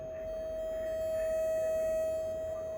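A steady, pure electronic test tone from a Yaesu FT-991A radio hums through a small, worn speaker, slightly distorted, over faint hiss and noise, constant and unbroken.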